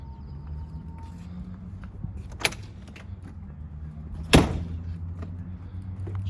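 Doors and grab handles of a fire apparatus being checked during a pre-trip inspection: two sharp latch clunks, the second louder, over a low steady idling rumble with faint rattles.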